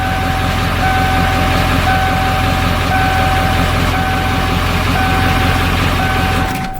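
A 1995 Ford Powerstroke dually diesel truck idles loud and close with a steady low rumble and clatter, while a repeating high electronic beep chimes through the constant engine noise.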